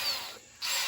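A power drill with a cheap bit bores into stainless steel during a bimini install on a MacGregor 26 sailboat: a loud, close, high-pitched grinding whine briefly drops off, then resumes, with no talking.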